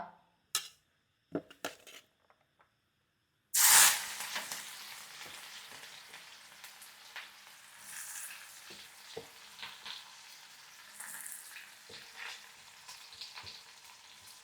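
Onion goes into hot oil for spicy red chicken rassa: a few clinks, then a sudden burst of sizzle that settles into a steady, moderate frying hiss with occasional stirring taps.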